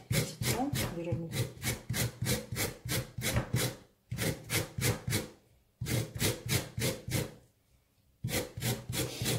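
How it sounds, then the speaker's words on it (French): Lemon zest grated off a whole lemon in a home kitchen: close, loud rhythmic rasping strokes in quick bursts, separated by short pauses, with no talk. "On va faire prendre les zestes de citron."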